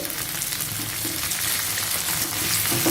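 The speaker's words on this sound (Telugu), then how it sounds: "ఈ ఉల్లిపాయ ముక్కలు వేసిన వెంటనే వంకాయలు కూడా వేసేసుకోవాలి" White brinjal pieces fry in hot oil with onions and curry leaves, making a steady, close hissing sizzle that continues without any speech.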